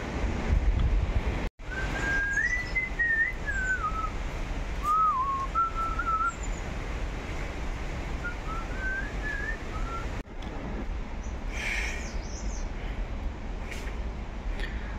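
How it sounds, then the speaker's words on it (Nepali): Birds sing in a Himalayan forest on the Annapurna trail below Machapuchare. Clear, whistled chirps and trills come in short phrases over a steady roar of a rushing stream and wind. "चराचुरुङ्गीको आवाज"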